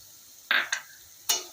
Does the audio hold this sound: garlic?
yes